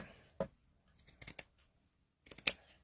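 Paper being snipped with scissors while making a junk journal from a Little Golden Book: one crisp cut, a short series of quick snips, then another cluster of cuts near the end, close and fairly quiet with no talking.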